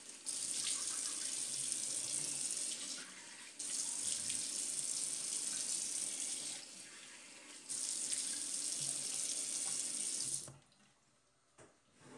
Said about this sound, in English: let me just wash off real quick